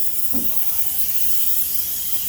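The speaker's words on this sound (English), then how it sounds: "Lincoln's putting silicone spray to make it slide a little easier for us." Silicone spray from an aerosol can applied to a sliding box door, a continuous airy hiss running steadily throughout, close and without talk.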